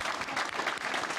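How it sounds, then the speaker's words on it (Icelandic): An audience at a conference on coaching women's football applauds steadily, a dense, even wash of clapping from a roomful of people, with no voices on top. "Getum við klappað einu sinni enn fyrir þeim öllum"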